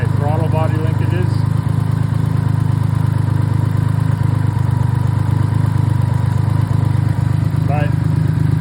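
A BMW K75 motorcycle engine idles steadily during throttle synchronization and idle adjustment, a loud, continuous low rumble up close with faint chirping squeaks early and late.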